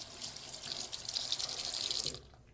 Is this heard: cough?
no